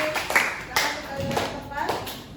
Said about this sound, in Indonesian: Kita beri tepuk tangan untuk kelompok 3 ya.